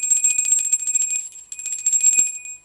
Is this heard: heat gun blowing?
no